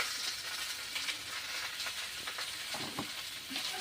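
Onions frying in oil as turmeric goes in, a soft even sizzle with a few faint stirring scrapes, close but fairly quiet.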